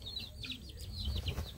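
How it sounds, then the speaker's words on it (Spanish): A hen tucked under a box clucks in short, repeated chirping bursts, fairly faint and close, over a low background rumble. "La gallina que metieron debajo de la caja."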